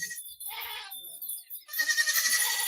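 A goat bleats loudly and close by, a couple of wavering calls in quick succession on a farm while the mother is called over to feed her kid.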